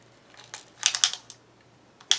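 Scissors cut fabric squares for a crochet bag lining, giving a few quick, close, crisp snips in short bursts with pauses between them. No one talks.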